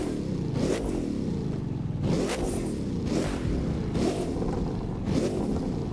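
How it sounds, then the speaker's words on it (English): A car engine in the racing game The Crew 2 revs repeatedly, each loud rev followed by popping backfires in a rhythmic cycle of about four bursts, close and alone without talk. "a car with backfires"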